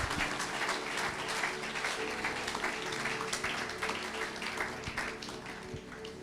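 A church congregation applauds and cheers in acclaim of Jesus, steady dense clapping filling the room for several seconds at an even, sustained level.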